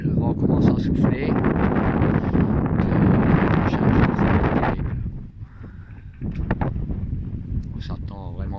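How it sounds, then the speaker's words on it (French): Strong wind blows across a sailboat at anchor off Palma, Majorca, a loud, steady gusting roar buffeting the microphone that eases briefly near the end, with a voice speaking over it. "Le vent commence à souffler."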